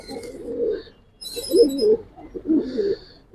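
Giribaz and coloring pigeons cooing up close, three soft, throaty rolling coos in quick succession with brief pauses between, and no voices.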